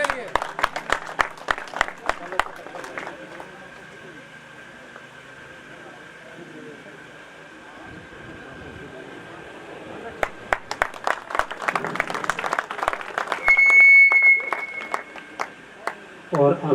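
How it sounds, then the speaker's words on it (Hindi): A group claps for Pankaj in two scattered bursts of rapid, fairly faint applause, one at the start and a longer one later, separated by a quiet stretch with a steady hum. "तालियां भाई पंकज के लिए।"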